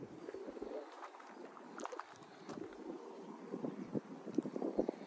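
Steady low wind buffeting a microphone outdoors at a fishing lake, rumbling and gusty, with faint scattered rustles over it.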